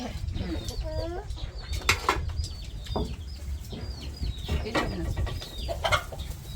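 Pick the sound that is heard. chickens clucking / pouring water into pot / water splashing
chickens clucking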